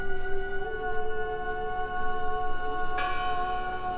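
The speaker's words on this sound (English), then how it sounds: "I heard the bell." Church bell tolling in the video game Draugen, steady resonant strikes with a long sustained ring and overtones, a fresh louder strike near the end, heard alone without talk.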